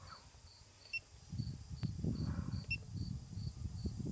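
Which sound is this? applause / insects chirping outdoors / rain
insects chirping outdoors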